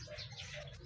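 A racing pigeon, perched and nesting, makes soft, faint cooing and murmuring sounds at close range for a moment.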